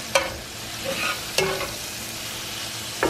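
Chopped green onions fry in olive oil in a pan, giving a steady close sizzle with a few sharp clinks of a utensil, one near the start, one midway and one at the end, and no talk.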